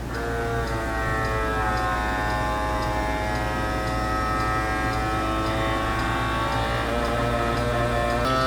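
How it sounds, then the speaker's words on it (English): A kitchen vacuum sealer pulling air from a jar fitted with a new lid runs with a steady, droning mechanical hum, close and unbroken throughout, with no talking. "I've got my vacuum sealer here. Just going to pop that on, push the button."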